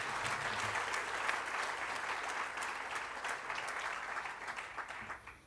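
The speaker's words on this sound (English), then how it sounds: "Please give them a round of applause." Audience applause at a Western Cape education awards ceremony, continuous dense clapping from a large crowd that holds steady and then tapers off at the very end, heard from some distance.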